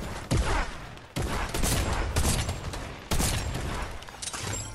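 Gunfire in the video game Fortnite: several loud bursts of rapid shots in quick succession, each starting sharply and trailing off, with brief gaps between volleys.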